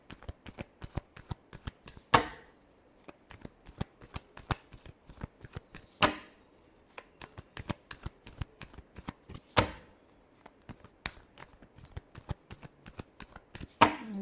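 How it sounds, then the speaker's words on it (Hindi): Tarot cards are shuffled by hand, with quick, soft, crisp riffling clicks in a steady patter, punctuated every few seconds by a sharper snap as the deck is bridged or tapped, close and quiet with no talk. "last shuffle"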